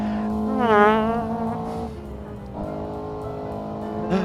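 A sim racing car engine whines loudly, pitch swooping up then settling, and the tone shifts briefly as the car passes under a bridge.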